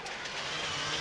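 Onboard a Ford Focus WRC rally car, the engine drones loudly and steadily at close range, a continuous mid-pitched roar with no pause across the short moment.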